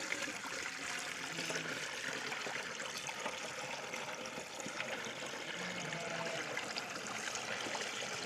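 Water pours steadily into an empty can, a continuous splashing trickle with no break, close and moderately loud throughout.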